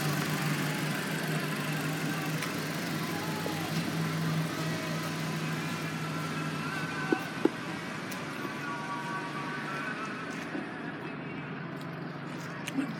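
A 2014 Chrysler 200 with a 2.4-liter engine idling steadily with a low, even rumble, close by, with a couple of faint clicks.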